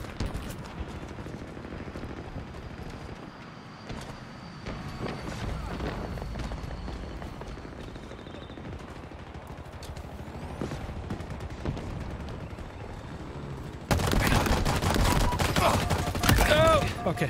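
Gunfire in a Halo Infinite Big Team Slayer multiplayer match, a steady mix of rapid shots and combat noise that swells abruptly louder near the end, with voices talking over it.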